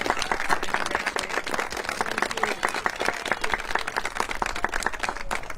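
An audience gives a steady, dense round of applause for Director Peck at a day of recognition event, with continuous clapping that stays fairly loud throughout.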